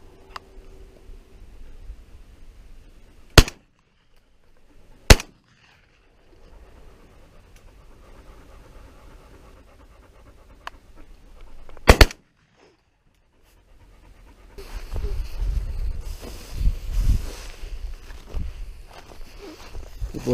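Shotgun blasts in an open stubble field during pigeon decoying: three sharp, loud shots spaced a few seconds apart amid quiet outdoor ambience, then rustling, footsteps and a panting dog toward the end.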